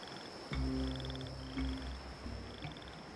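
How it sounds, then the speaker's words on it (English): Crickets chirp faintly in short, regular pulses in the game Genshin Impact, over a quiet background with a few low, croaking tones. "Crickets."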